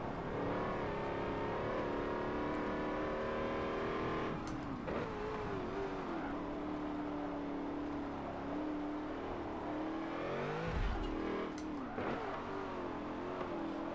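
An 800hp GMC Vandura engine in Forza 7 roars steadily at high revs, pitch climbing and dropping through gear shifts and lifts, loud and continuous throughout with no talking.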